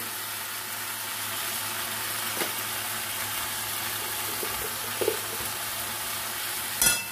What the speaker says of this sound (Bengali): সেটাকে একটু ভালো করে এখন কষিয়ে নেব।